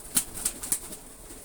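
Rajshahi Giribaz tumbler pigeons give three quick, faint bursts of wing flapping, evenly spaced a moment apart, followed by quiet.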